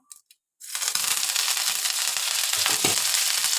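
After a few faint handling taps, hand-torn curry leaves and fennel hit hot oil with a sudden loud crackling sizzle that stays strong and steady.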